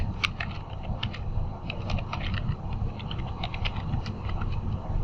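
Fast typing on a computer keyboard, crisp key clicks coming in quick irregular bursts for several seconds against a low background hum, close by and with no speech.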